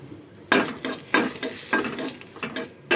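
Green chillies and two bay leaves fry in a pan for a chicken liver chorchori, a close, loud sizzle with bursts of stirring that rise and fall in a steady rhythm.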